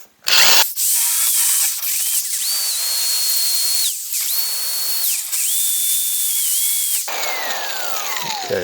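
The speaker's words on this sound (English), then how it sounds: "Everything else I cut out with my little die grinder, my little grinder on my my little Dremel here" A small Dremel die grinder cuts a door handle on a 1968-69 Pontiac GTO, a loud, close, high-pitched whine that runs in long bursts, dips briefly between cuts and winds down at the end.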